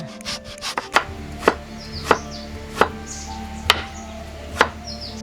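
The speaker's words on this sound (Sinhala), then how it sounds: "මුලින්ම කොහිල ටික ලියා ගන්න." Kohila (lasia) being chopped for sambol, six crisp knife strokes on a board at roughly even intervals after some lighter rustling at the start, close and clear with no voices.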